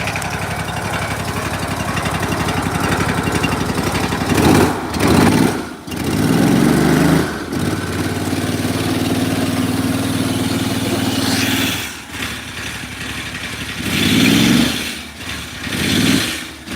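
Pressure washer engine running loud and steady at close range, its pitch climbing as the throttle is opened up, with brief dips and surges in between.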